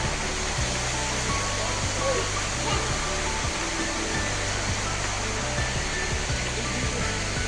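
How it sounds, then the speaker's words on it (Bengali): Water tumbles down from a mountainside at a waterfall near a temple in Srisailam, a constant loud broadband roar filling the whole stretch, with a faint low rumble underneath. "দেখুন কত সুন্দর পাহাড় থেকে জল পড়ছে"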